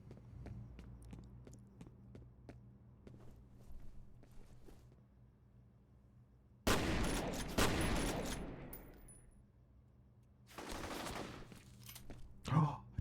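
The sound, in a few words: gunfire shooting at the player in video game F.E.A.R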